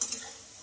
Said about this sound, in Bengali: দেখো এদিকে আমার আলুটাও ভাজা হচ্ছে